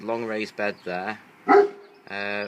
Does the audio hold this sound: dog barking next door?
yes